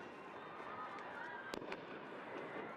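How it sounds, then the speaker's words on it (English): Fireworks burst after a women's soccer match between Carolina Ascent FC and Spokane Zephyr FC ended in a 0-0 draw, heard as a couple of distant pops and crackles over a steady stadium crowd murmur. "Fireworks going off after the 0-0 draw."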